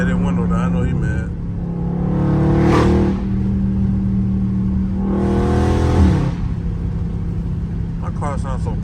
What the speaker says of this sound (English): My car sounds so powerful to barely be hitting the throttle